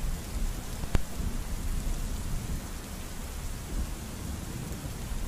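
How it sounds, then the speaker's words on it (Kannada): Heavy rain from cyclone Biparjoy pours steadily in Maharashtra, a dense roaring wash with a sharp thunder crack near the start, loud and continuous with no voices. "ಮಹಾರಾಷ್ಟ್ರದಲ್ಲಿ ಚಂಡಮಾರುತ ಜೋರಾಗ್ತಾ ಇದೆ"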